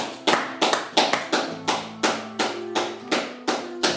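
A church congregation claps together in a steady, even rhythm, sharp loud claps landing roughly every half second, with faint sustained tones ringing underneath.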